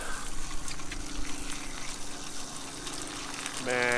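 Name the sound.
camping shower running water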